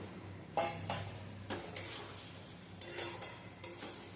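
Fried potatoes drop into a pan of spice mixture for jackfruit curry, giving a few soft clatters and stirring scrapes over a faint low sizzle, fairly quiet with no talking.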